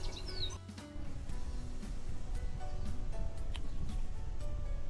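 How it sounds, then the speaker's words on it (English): Small birds chirp outdoors near the southernmost tip of Africa, scattered short tweets at moderate distance over a broad windy hiss that dips briefly early on. "listening to the wind and the birds chirping"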